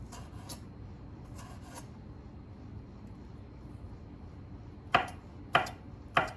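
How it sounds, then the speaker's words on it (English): Knife chopping a jalapeno on a cutting board, three sharp separate chops near the end after some quiet faint scraping and rubbing. "we've got our jalapeno diced up"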